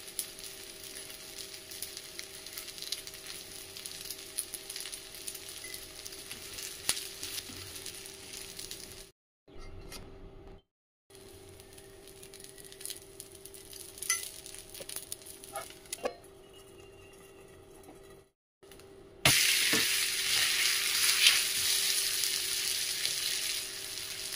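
Rava rotti (sajjige rotti) cooks in ghee on a hot pan, giving a steady soft sizzle and crackle throughout, briefly cut by a few silent gaps and growing louder and brighter near the end, with no talking.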